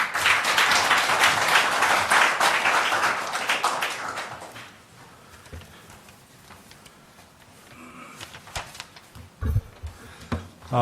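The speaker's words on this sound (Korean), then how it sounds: "큰 박수 부탁드립니다" An audience at a Korean policy forum on fair-growth laws gives loud, sustained applause for about four seconds. It then drops to a quiet room with scattered taps and shuffles.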